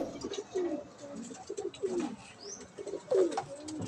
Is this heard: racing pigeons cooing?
yes